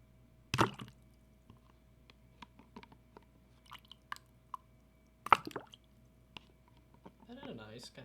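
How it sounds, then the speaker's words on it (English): Water splashes from a video game: two sharp, sloshing splashes a few seconds apart with soft drips and plops between them, and a voice speaks near the end. "I want to get the water sounds, though."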